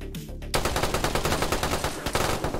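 Rapid semi-automatic gunfire in the survival video game DayZ, a dense burst of loud, close shots in quick succession that starts abruptly after a brief quieter lead-in and keeps going to the end.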